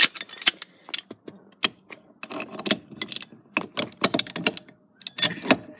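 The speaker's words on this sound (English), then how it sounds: "And then get your breaker bar." Breaker bar being turned on a car's steering wheel nut while fitting an aftermarket steering wheel: a close, rapid series of sharp metallic ratcheting clicks and creaks in irregular bursts, with no talking.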